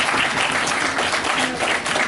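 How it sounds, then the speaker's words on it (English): Wedding reception guests clapping together after a toast, a dense, loud burst of applause without speech. "Okay, y'all can clap now."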